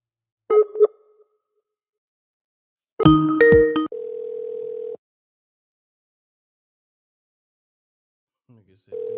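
A steady telephone dial tone sounds for about a second after a call is hung up, preceded by short bursts of clicks and tones, with another stretch of the tone returning briefly at the end.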